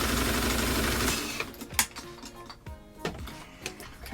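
A sewing machine stitches fabric for a simple top, starting with a steady, loud mechanical whir, then breaking into uneven runs of quick ticking stitches with short pauses and clicks.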